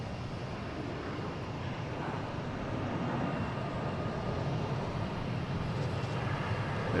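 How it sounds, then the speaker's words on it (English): An American Airlines airliner takes off at Boston Logan International Airport, a steady, fairly distant jet roar that holds evenly throughout with no talk. "We have American Airlines taking off, heading to Norfolk."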